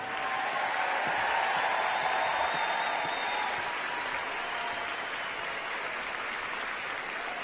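A large audience at an art gallery talk applauds to welcome the moderator, a sustained, even roar of clapping that holds steady then softens slightly.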